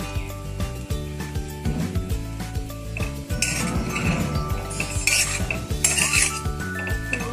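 Leftover chapati churma mixed with finely chopped coriander in a bowl: a spoon repeatedly clinks and scrapes against the dish in a steady stirring rhythm, with tonal music running underneath.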